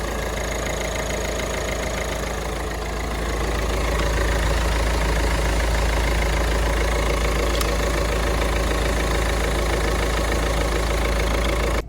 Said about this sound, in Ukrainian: Моторчик просто шепче.